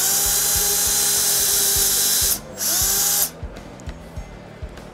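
Drill bit boring a 5 mm shelf pin hole through a Kreg shelf pin jig, heard as a loud, steady high whine for about three seconds, briefly dipping, then cutting off into quiet with faint clicks.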